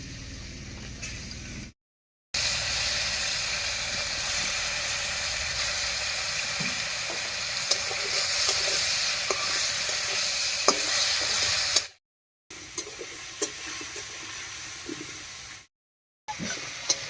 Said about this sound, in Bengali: এবার শুটকি মাছের ওপরে হলুদ লবণ মাখিয়ে মাছটা ভেজে নেবো